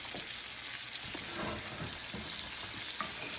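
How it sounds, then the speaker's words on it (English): A ribeye steak butter-basting in a hot pan with garlic, thyme and rosemary, producing a loud, steady, continuous sizzle and spatter with faint scraping and stirring beneath, no voices. "Next, we want to butter baste."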